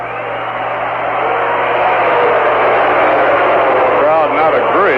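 Baseball crowd at a Mets versus Cardinals game booing and murmuring in disagreement with the umpire's call, a loud, steady wash of stadium noise that swells and holds throughout, with a brief voice near the end.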